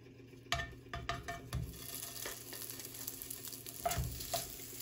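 Burger steak patties fry in a pan with a soft continuous sizzle, broken by several sharp clinks and scrapes of a utensil against the pan.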